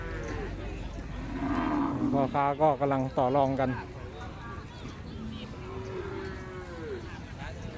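Cattle at a busy livestock market in Yasothon, Thailand, low a few times in a cluster of loud, close moos, while someone talks over them and other livestock sounds carry in the background.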